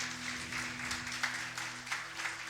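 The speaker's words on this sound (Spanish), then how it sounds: "Dale un aplauso al Señor si lo crees." A church congregation claps together during a service, a soft, steady patter of applause with a faint electrical hum underneath.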